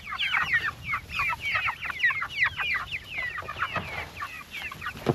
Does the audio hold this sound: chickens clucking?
yes